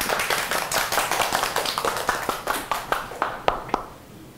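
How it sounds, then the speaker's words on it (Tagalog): A class claps, starting as a dense burst of applause that thins into a few separate, sharp claps before fading away. "Palakpak."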